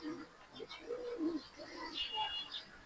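Fancy coloured pigeons coo in soft, low, rolling calls close by, with a few faint higher chirps and a voice murmuring underneath.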